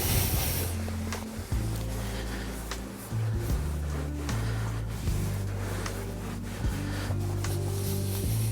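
Ceramic interior coating is buffed by hand onto a car surface, a soft continuous rubbing and wiping hiss, close, over a low steady hum from nearby equipment.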